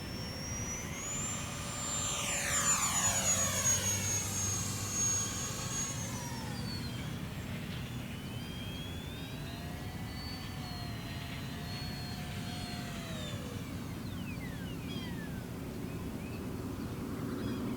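An E-flite UMX Viper 30mm EDF RC jet flies past with a high, whining ducted-fan tone that rises and then drops in pitch as it sweeps by, then keeps whining more faintly at a distance over steady outdoor background noise.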